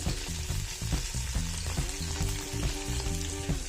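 Chilli chicken sizzles hard in a hot pan as a teaspoon of white vinegar goes in, a loud continuous frying crackle with bursts of stirring and a faint tonal hum beneath.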